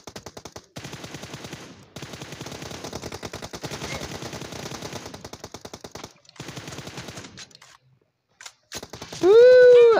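Rapid automatic gunfire in a video game, sustained bursts of fast, evenly spaced shots with short gaps, loud and close, ending in a sharp, rising tonal effect.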